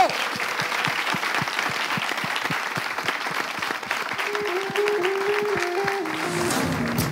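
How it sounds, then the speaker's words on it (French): Studio audience applause on a French talk show, a dense steady clapping that continues evenly and close throughout, with a brief tonal sound rising near the end. "Applaudissez!"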